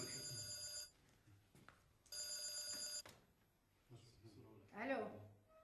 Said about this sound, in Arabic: ما انتوا سامعين التليفون؟